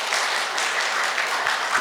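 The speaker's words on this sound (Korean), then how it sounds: "박수 한 번 더 부탁드리겠습니다" A conference audience at a disability rights and climate crisis forum gives a brief burst of dense, even applause lasting under two seconds.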